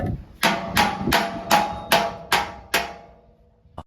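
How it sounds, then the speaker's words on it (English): A hammer strikes metal parts of an old trailer seven times at a steady pace, each blow a loud, sharp, ringing clang close up, followed by a brief quiet pause. "this part involves hitting stuff with a hammer"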